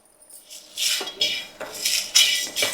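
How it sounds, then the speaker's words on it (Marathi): Whole spices such as coriander, bay leaf, cinnamon, star anise, cardamom, cloves and black pepper are stirred while dry roasting in a pan, giving repeated scraping and rattling strokes of a spoon against metal, close and moderately loud. "हे खडे मसाले आपल्याला असे जरा भाजून घ्यायचे आहेत अगदी करपवायचे नाहीत जरा असे खमंग भाजून घ्यायचे असे जरा परतवत राहायचे"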